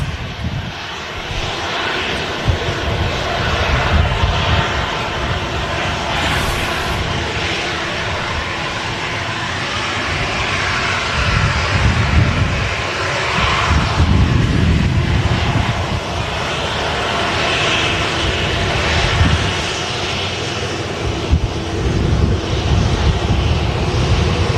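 A landed airliner slows on runway 23R at Manchester Airport and turns onto a rapid exit taxiway as its thrust reversers stow. A loud, steady jet engine roar spools gently up and down, close by and continuous, with no voices.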